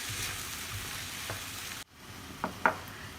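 Shakshuka tomato sauce fries and is stirred in a pan, a steady close sizzle with a few soft scrapes of the spoon, breaking off briefly before the sizzling resumes.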